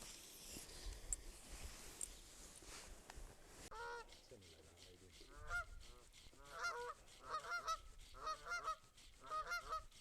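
Geese honking near a lake at the Teifi Pools in Wales: repeated nasal honks, fairly close, coming in rapid bursts after an opening stretch of wind and outdoor noise, faint overall.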